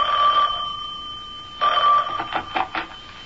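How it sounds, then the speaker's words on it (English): A telephone rings as a radio drama sound effect, a steady electric bell tone followed by a pause and a second burst of rapid, trilling rings, clear and close. "when the phone rang"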